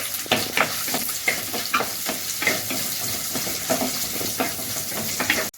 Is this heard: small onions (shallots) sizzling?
yes